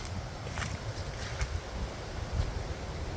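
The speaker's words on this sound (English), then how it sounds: "You could hear the sound of the waves and them in the background," Waves break on a windy beach in Icacos, South Trinidad, around 100 feet away: a low, continuous rumble of surf under heavy wind buffeting the microphone.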